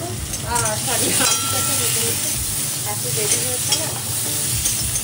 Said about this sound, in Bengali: হলুদ আর লবণ দিয়ে আলুটাকে একটু ভাজা ভাজা করে দিচ্ছি